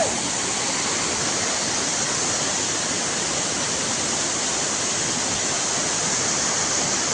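A forest waterfall at Mayil Paarai roars in a loud, dense, unbroken rush of falling water, steady and close throughout with no pauses or voices on top.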